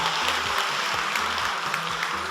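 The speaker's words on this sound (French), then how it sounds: "Applaudissez bien fort pour vous, s'il vous plaît" A crowd at a televised vacation event between Baba Moustapha and the Sainte-Thérèse d'Avila parish claps in a dense, continuous patter over a low, rhythmic musical backing.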